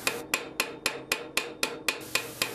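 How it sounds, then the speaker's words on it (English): A small cross peen hammer strikes a rivet on a forged steel spring latch: about ten light, sharp metallic blows land in a steady, even rhythm, close and clear. "I use a small cross peen and a lot of light hammer blows."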